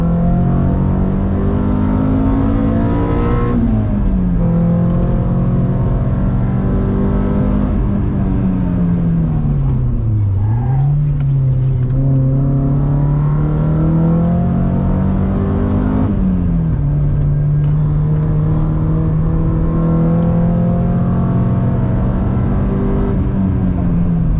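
A Nissan sports car engine, a Silvia S15 or 350Z, roars continuously at high revs, pitch rising and dropping with gear shifts and braking as it drives hard around a track.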